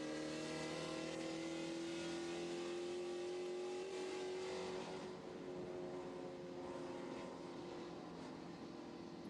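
Spec Corvette race cars roar around Virginia International Raceway, a sustained loud engine drone with a steady pitch that shifts slightly as the cars pass, heard from a distance without voices.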